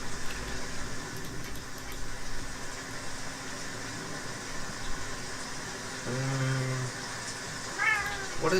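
A cat meows a couple of times nearby, with a short mid-pitched cry near the end of a steady background hum and room noise.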